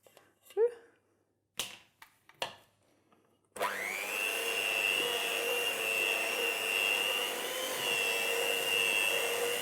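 Electric hand mixer beating royal icing in a bowl, starting abruptly after a few brief knocks and taps, then a steady, loud whirring drone held continuously to the end.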